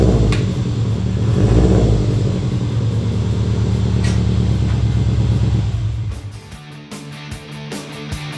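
A car engine rumbles and revs steadily as the freshly painted car is pulled back into a home garage, loud and close, then cuts off near the end, leaving a few sharp clicks.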